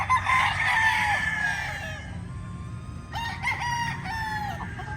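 Chickens crow and cluck close by in a farmyard, a loud rooster call opening the scene followed by a second burst of crowing and clucking a few seconds later.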